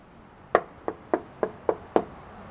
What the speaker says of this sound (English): As you can notice, if I knock on it